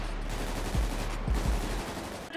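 Video game gunfire in a chaotic online roleplay battle, with a few sharp shots standing out over a dense, continuous rumble of distant fire and engine noise.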